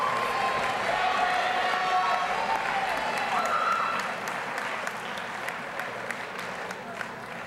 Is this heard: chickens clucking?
no